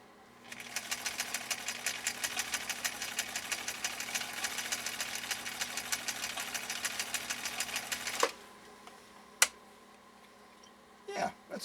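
A 1962 Husqvarna Viking Type 21E sewing machine stitches a narrow zigzag with a fast, even mechanical buzz for about eight seconds, then stops, followed by a few faint clicks, close up and alone.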